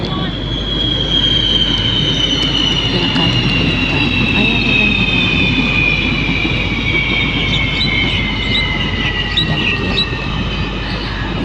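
A train passes through a station with a loud, continuous rumble and high, drawn-out wheel squeals close by that slowly fall in pitch.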